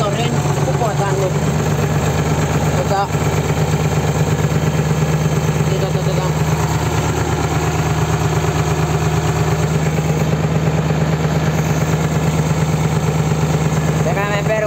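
A Valmet 500 tractor engine runs steadily at a constant idle, with a loud, close, even low throb throughout and people talking over it.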